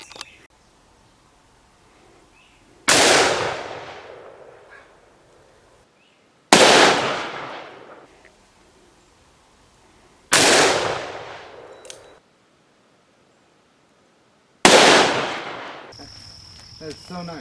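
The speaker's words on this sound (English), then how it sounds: "So we're gonna shoot it again with the 44." .44 Magnum revolver shots fired at recycled milk jug plates outdoors: four loud, sharp reports spaced a few seconds apart, each with a decaying echo, in otherwise quiet surroundings.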